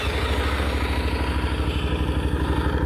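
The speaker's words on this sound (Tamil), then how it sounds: "அதனால நம்ம ஸ்டார்ட் பண்ணி இந்த சவுண்ட் எப்படி இருக்கு அப்படிங்கிறது இப்போ பார்ப்போம்." A Suzuki V-Strom 800DE parallel-twin adventure motorcycle idles close by, its engine putting out a steady, even low thrum with a faint mechanical clatter on top and no one talking.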